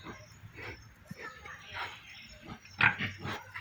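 Pigs on a farm grunt in short repeated bursts at close range, with a louder snort near the end, under a person talking.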